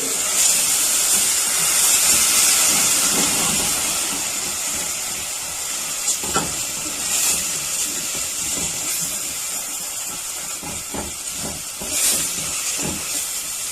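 Onions sizzling and hissing in a hot pan as a splash of boiling water is added, a loud, steady steam hiss with scattered crackles and spits throughout, no voices.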